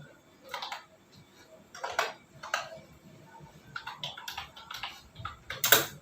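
Keys on a computer keyboard are typed in short, irregular clusters of soft taps, faint and close, with a louder clack near the end.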